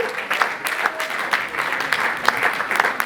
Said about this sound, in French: Est-ce qu'on peut applaudir Papa Nacho-Memo?